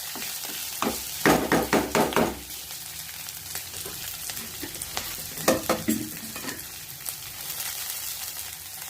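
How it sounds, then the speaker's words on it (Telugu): Curry leaves and green chillies sputter loudly in hot oil for a tempering, with bursts of crackling around two seconds in and again near six seconds, a steady sizzle underneath and no voices. "ఇదిగోండి పోపు వేగిపోయింది."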